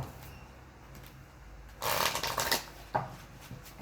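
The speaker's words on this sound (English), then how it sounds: "Two more shuffles." Tarot cards are shuffled by hand, a couple of loud riffling bursts of papery flutter following quieter handling, close and alone with no talk.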